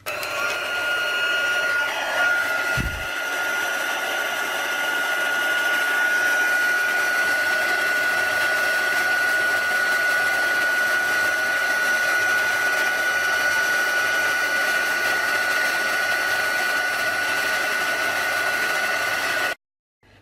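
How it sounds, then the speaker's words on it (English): A handheld heat tool blows hot air to heat emboss powder on cardstock, a loud steady whooshing hiss with a whine that runs continuously for about twenty seconds before cutting off abruptly, close up with no talk. "And then using my heat tool, just put that away, I'm going to heat emboss these."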